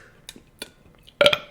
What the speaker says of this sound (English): I burped, and that was rude.